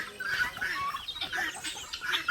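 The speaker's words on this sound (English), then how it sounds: "And then there over there we got guinea fowl. Turkey." Farm fowl, guinea fowl or turkey, call repeatedly on a Filipino province farm with quick, fairly faint clucking and chattering notes in short bursts, with no talking over them.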